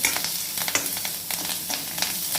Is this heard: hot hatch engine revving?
no